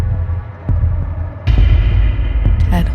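Heartbeat sound effect in a horror animated story: a low, throbbing pulse with a few dull thumps spaced irregularly under a steady droning hum, fairly loud and close, with no voices.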